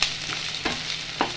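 Chopped tomato sautéed in a pan for a Malayalam-style curry, with a few soft stir scrapes and a faint, steady sizzle underneath, close and quiet with no talk.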